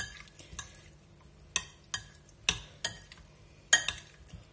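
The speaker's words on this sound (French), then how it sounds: "on va mélanger le tout, on remélange" A Lyonnaise potato salad is stirred and mixed in a bowl, giving a series of sharp, close clinks and scrapes of utensil against dish at an uneven pace, with no voices.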